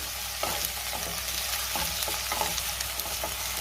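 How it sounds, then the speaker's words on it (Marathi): Chopped tomatoes and onion sauté in a pan for a potato sukhi bhaji, a constant close sizzle broken by repeated scraping stirs of a spoon every half second or so. "आता आपल्याला त्यामध्ये टोमॅटो घालायचे आणि टोमॅटो सुद्धा मी 1 मिनिटभर चांगला परतून घेणार आहे"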